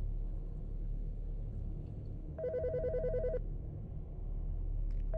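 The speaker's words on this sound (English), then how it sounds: "The fucking phone." A telephone rings once in a video game, a single electronic trilling burst of about a second over a low steady rumble.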